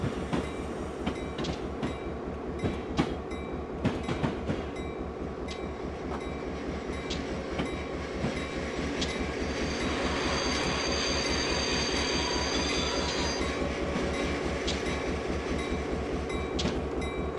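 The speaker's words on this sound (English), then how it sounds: "Go ahead and start braking." A simulated freight train on the Stevens Pass route in Train Simulator 2014 brakes with a steady heavy rumble of wagons and wheels, and a thin wheel squeal rises midway and holds near the end.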